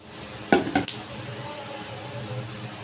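Garlic and cumin sizzling in hot oil for a daal tadka, a soft steady fry hiss with a few sharp clinks of a spoon against the pan near the start.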